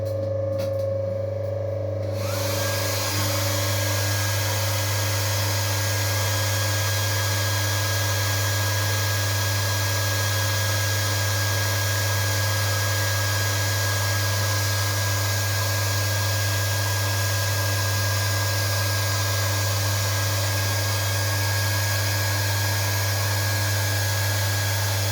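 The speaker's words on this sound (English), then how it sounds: "I'm going to use the hairdryer to dry it off a bit." A hair dryer runs continuously at a steady, loud whir with a low hum, starting abruptly after a brief quieter moment and never letting up.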